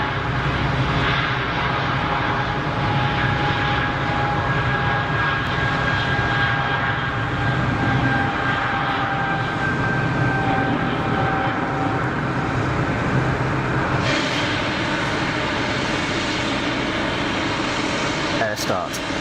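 At Geneva Airport, a Swiss jet airliner on an intersection departure roars continuously with a sustained engine whine, loud and broad, shifting in tone partway through.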